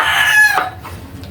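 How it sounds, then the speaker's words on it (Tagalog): A rooster crows close by, loud and short, its call trailing off quickly into quiet background. "Sobrang ingay ng manok po"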